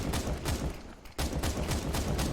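Rapid auto sniper rifle fire in a CS:GO match on the map Train: repeated sharp shots in quick succession, loud and close, with one brief gap midway.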